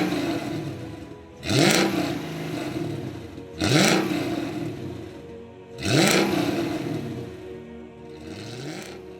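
A Mercedes C55 AMG's 5.4-liter M113 V8 revs three times in quick succession, each blip surging up and falling back to a steady growling idle, loud and close with no talk.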